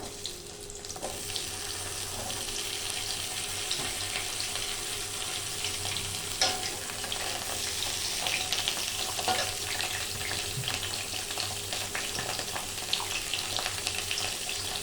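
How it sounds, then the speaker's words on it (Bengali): Pointed gourd pieces frying in hot oil in a kadai make a continuous watery crackle and hiss, with occasional sharper pops and scrapes over a steady bed of sizzle. "তেল গরম হলে আমি পটলগুলোকে ভেজে নেব।"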